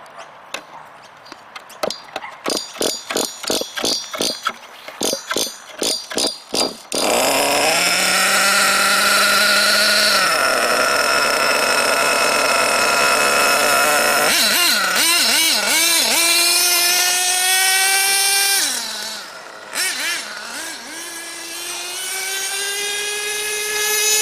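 An HPI Savage X 4.6 nitro RC truck engine revving in sharp repeated blips, then holding a loud, steady full-throttle scream with rising and falling pitch as it runs on an MX track, close and continuous.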